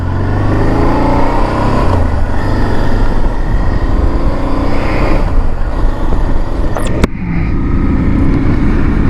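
A Honda Transalp motorcycle engine runs loud and close in a steady, dense roar, with a brief dip near the end that could be a gear change.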